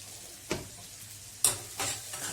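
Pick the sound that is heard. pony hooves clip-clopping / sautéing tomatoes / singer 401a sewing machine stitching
sautéing tomatoes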